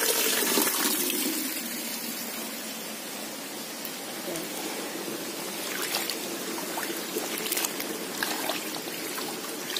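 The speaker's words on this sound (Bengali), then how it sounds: "আগে কাঁকড়াটা ধুয়ে নিতে হবে।" Crabs are washed in running water, and a steady splashing, trickling wash of water continues throughout with occasional sharper splashes, close by.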